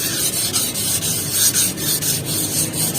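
A faded car hood is hand-sanded with thin sandpaper in quick, rhythmic back-and-forth scratching strokes, close and steady, with no talking.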